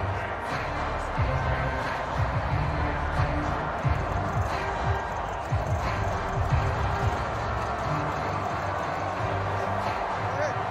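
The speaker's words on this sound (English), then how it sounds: "The crowd's not doing that O-line any favors." A stadium crowd roars in the Madden 24 video game during a Miami Dolphins versus Jacksonville Jaguars matchup, a dense, continuous wall of crowd noise with a commentator's voice over it.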